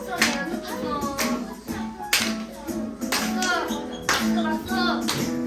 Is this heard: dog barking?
no